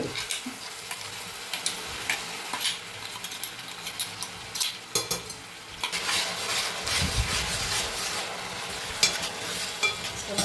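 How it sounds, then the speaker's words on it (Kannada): Ground garlic, ginger, green chili and tomato paste frying in a pan, a steady close sizzle broken by repeated scraping stirs and light clinks of a spoon against the metal. "ಸ್ವಲ್ಪ ಹಸಿ ವಾಸನೆ ಹೋಗೋವರೆಗೂ ಸ್ವಲ್ಪ ಫ್ರೈ ಮಾಡ್ಕೊಬೇಕು ಚೆನ್ನಾಗಿ"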